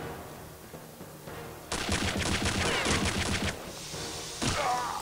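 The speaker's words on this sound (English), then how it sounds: "they get good guns. As in, they get FG-42 rifles." FG-42 rifle gunfire in the video game Return to Castle Wolfenstein, a loud rapid automatic burst lasting about two seconds, followed by a short single blast.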